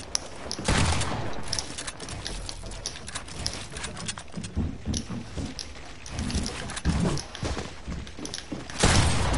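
Rapid gunfire in a video game shootout during a duos match, bursts of close, loud shots and sustained automatic fire with a heavy blast near the end.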